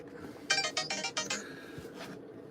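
Phone text message notification tone: a quick burst of four bright chiming pulses, then a fainter fifth one, heard up close against a quiet background.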